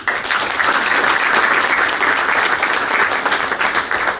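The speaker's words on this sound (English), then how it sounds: "So clap it up for JV" Applause from a banquet crowd honoring the JV boys basketball team, a dense, steady wash of many hands clapping at close range for the whole stretch, loud and continuous with no voices standing out.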